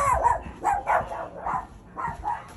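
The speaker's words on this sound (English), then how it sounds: "Dog's barking." A dog barks repeatedly, several rhythmic bursts a moment apart at moderate distance, standing out clearly with no talk over it.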